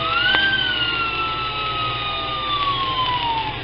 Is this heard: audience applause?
no